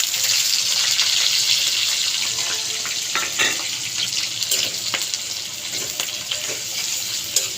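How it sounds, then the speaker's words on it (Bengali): Chopped onion and chilli fry in hot oil just used for frying eggs, a loud, steady hissing sizzle that starts strong and settles slightly, with occasional pops and clinks of a utensil. "এখন আমি ওই ডিম ভেজেছি ওই তেলের উপরে দিয়ে দেব পেঁয়াজ কুচি এবং মরিচ।"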